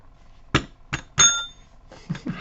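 Several sharp metallic strikes ring out in an irregular sequence, one with a brief bright bell-like ring, clanging close and loud.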